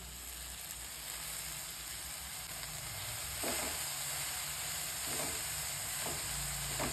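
Manathakkali greens sizzle and fry in a pan with masala, a steady low hiss with several soft scraping stirs near the end, close and quiet, no talking.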